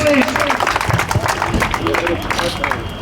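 A village crowd applauds kabaddi medal winner Joginder at an outdoor honouring ceremony; dense, steady clapping fills the whole stretch with voices mixed in.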